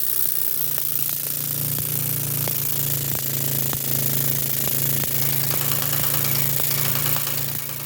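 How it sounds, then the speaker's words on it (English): A steady mechanical drone with rapid, regular knocking pulses from a homemade pneumatic piston thumper runs continuously, like a hammering piston machine chattering nearby. "I'd created a pneumatic vibrator."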